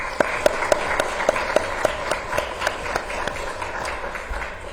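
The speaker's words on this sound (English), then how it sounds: "Let's give them a round of applause." Sparse audience applause at a local candidates forum, a thin crowd of separate, distinct hand claps in a loose, uneven rhythm, fairly close and moderately loud.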